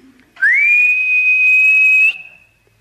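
A storyteller imitates a ghostly whistle with his voice: one long, loud, piercing tone that slides up and then holds steady for about two seconds before cutting off, close and alone.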